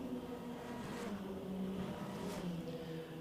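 Racing cars from a club car championship roar past at Snetterton circuit, two distinct pass-bys swelling and fading over a constant engine drone from a moderate distance, with no talking.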